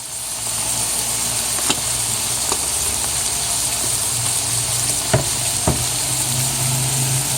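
Snapper fish fries steadily in a pan for brown stew, a loud continuous sizzle and crackle with occasional sharper pops, close up and without talk.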